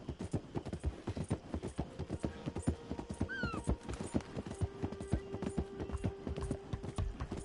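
Horse hooves clip-clop steadily across a bridge in Red Dead Redemption 2, a dense, continuous run of close, loud hoofbeats with a brief whinny in the middle.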